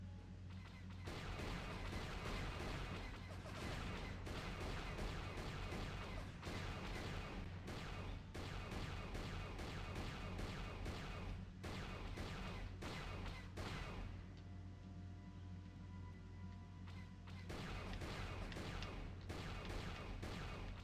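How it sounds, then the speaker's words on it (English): Blaster fire in Star Wars: Knights of the Old Republic, a dense, continuous stream of rapid shots and impacts over a constant low hum, briefly thinning midway before resuming at full intensity. "Man, I'm shooting like a goddamn stormtrooper"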